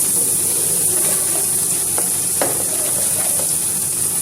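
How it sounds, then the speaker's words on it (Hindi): Garlic ginger paste frying in hot oil in a wok, a steady close sizzle and hiss throughout, with a few soft stirring knocks and no talking. "एक कढ़ाई में ऑयल गरम करेंगे और इसमें 1 चम्मच लहसुन अदरक का पेस्ट शामिल करेंगे"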